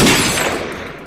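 Gunfire in The Mining Dead, a co-op zombie survival shooter: a loud burst at the start with its echo fading away over about a second, heard alone with no talk.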